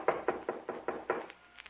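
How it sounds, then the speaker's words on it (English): Knocking on a door in an old radio drama: six evenly spaced raps followed by two softer ones, close and clear with no voices. "there was a knock on the door"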